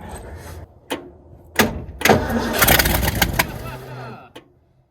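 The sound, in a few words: 1967 Ford dump truck engine starting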